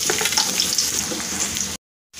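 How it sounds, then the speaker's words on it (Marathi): Chopped onion hits hot oil for egg bhurji and sizzles loudly and steadily, a dense close-up frying crackle that runs without pause before cutting off abruptly into brief silence. "तेल गरम झालंय, त्यामध्ये आता आपण कांदा घालूया।"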